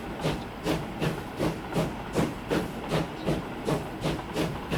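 A Pullman passenger train running in the Transport Fever 2 game, its wheels giving a steady, evenly spaced rhythmic chuff or clack, about two beats per second, under a constant hiss with no talk.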